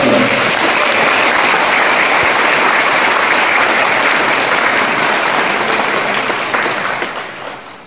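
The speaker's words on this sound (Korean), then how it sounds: "우리 석탄공사 임직원들을 위해서 큰 박수 한번 보내주십시오" An audience at a book launch event applauds coal corporation employees with loud, dense, sustained clapping that fills the room, holding steady before tapering and fading out toward the end.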